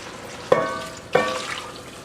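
Liquid poured into a pan of simmering jalapeños and garlic for pickling, with two short splashing, sizzling bursts close by, the second following the first about half a second later, then fading to a low bubbling hiss.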